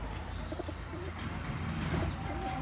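Domestic pigeons coo in soft, repeated low murmurs against a constant background hum, with faint chirps now and then.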